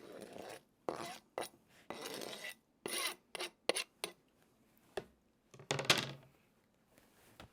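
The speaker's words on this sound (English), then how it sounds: "now we're going to mix that into the beans" Pork belly is stirred into barbecue baked beans in a pot, heard as irregular thick scraping and rubbing strokes of a spoon with brief knocks and pauses between them, close up and without speech.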